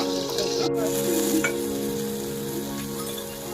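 Broken chilies sizzle and splutter in hot oil, a close, continuous crackling fry with scattered sharp pops, heard alone without talk.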